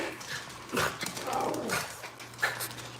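Dogs are heard indoors with a few short, scattered whimpers and yelps over a low steady hum, and a faint voice is briefly audible.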